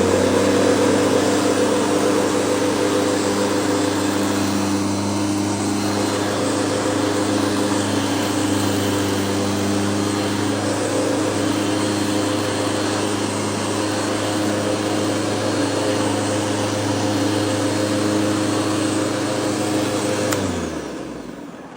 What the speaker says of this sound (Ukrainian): Може газонокосарка їздити по газонній рішотки, показую, що може.